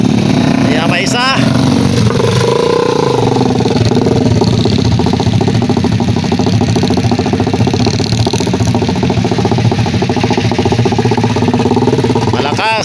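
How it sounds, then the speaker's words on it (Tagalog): Motorcycles carrying sacks of freshly harvested 534-variety rice from a farm field run as a steady engine drone with some revving, loud and close, under continuous talk. "Dili na kalabaw, kundi motor ang gamit."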